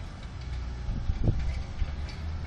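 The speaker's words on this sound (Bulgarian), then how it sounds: "наблюдаваме в работа комбинацията от трактор Фент 936 Варио и 6 метрова хиксообразна дискова брана на Кнохе" A Fendt 936 Vario tractor pulling a six-metre X-shaped Knoche disc harrow in a field demonstration, a low, steady engine rumble with a few clunks and rattles from the implement, heard at moderate distance.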